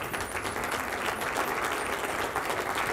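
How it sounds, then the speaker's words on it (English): A large lecture audience claps steadily and continuously while standing, a dense wash of applause with no voices standing out. "give your dean a round of applause"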